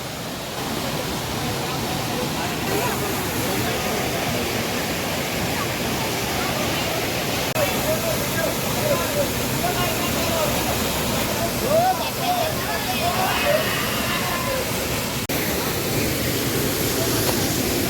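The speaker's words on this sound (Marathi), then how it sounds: "आमच्या मुखार आसा हो बुपरा वॉटरफॉल." Bupra waterfall in Canacona, Goa, a broad steady rush of falling water heard up close, with faint voices of people mixed in under the roar.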